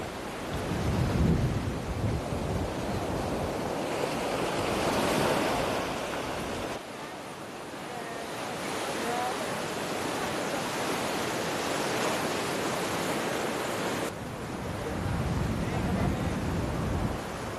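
Waves pounding the rocks around Tanah Lot, the fishermen's sea temple in Bali, a continuous heavy roar of surf that swells and eases in long surges.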